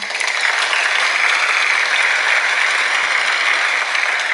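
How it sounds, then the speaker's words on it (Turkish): Applause rewarding a correct answer in a children's online class quiz: a steady, dense clapping that holds at an even level throughout, with no voices over it. "bu alkışlarda sana ve bu soruyu doğru cevaplayan abilere ablalara gelsin"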